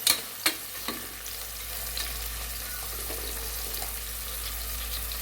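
Onions frying in a pan for a mutton dish, a close steady sizzle with a few sharp knocks of a stirring spoon at the start.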